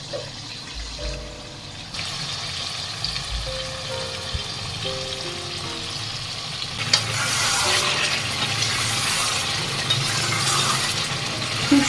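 Chicken curry fries in a pan with salt added, stirred at intervals; steady broadband sizzle with scraping stirs, growing louder and busier in the second half, with light clatter and no talk.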